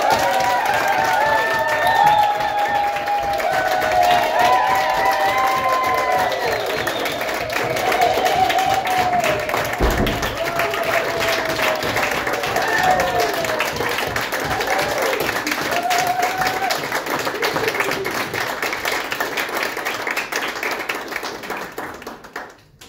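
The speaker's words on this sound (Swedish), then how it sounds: "Så en stor applåd nu till kvällens akt" An audience at a graduation concert claps steadily and loudly for the whole stretch as one act is introduced, with a dense, even wash of applause that fades out at the very end.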